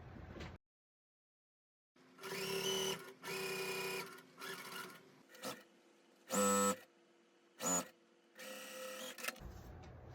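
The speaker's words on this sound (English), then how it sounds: "And now I'll sew this side on." Sewing machine stitching quilt block pieces in several bursts of rapid mechanical whirring, some long and some short, separated by quiet pauses; no one speaks.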